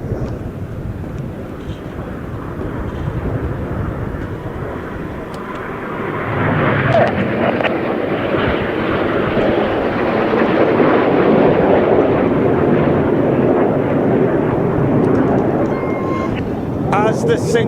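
Aerobatic display jets fly over an airfield at an air show, a loud sustained engine roar that swells and builds toward the end, with a commentator talking over it throughout.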